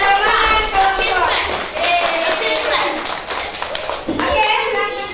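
Classroom of schoolchildren clapping for the winning group, brisk rhythmic hand claps mixed with loud overlapping children's voices, with a short lull and a fresh burst near the end.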